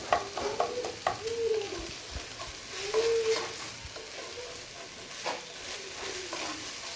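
Whole spices and salt (cinnamon, cardamom, bay leaf) frying in hot oil for pulao, a steady close sizzle with scattered crackles and a few light stirring scrapes, no talk.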